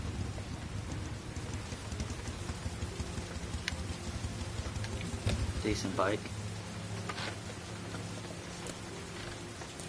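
Steady rain hisses throughout a rainy scene in the PS4 video game Heavy Rain, a dense even patter with faint low rumbles, while someone speaks briefly over it.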